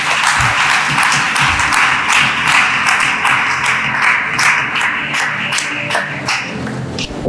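A church congregation applauding God, dense sustained clapping from a large crowd that stays loud and even throughout, with no one speaking over it.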